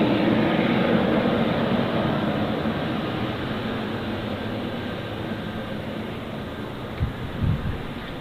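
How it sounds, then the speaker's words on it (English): A FedEx jet taxis along a taxiway at Ted Stevens International Airport, its engines producing a loud, steady roar that slowly fades slightly, with a brief thump near the end and no talking. "That's the other FedEx that's coming up that taxiway."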